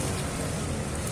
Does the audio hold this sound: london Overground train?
no